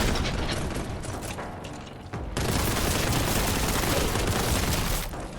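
A plasma gunner blowing itself up in the video game Warhammer Boltgun, heard within a dense, loud, continuous wash of game combat: blasts and mechanical gunfire roar throughout, with one brief dip partway through.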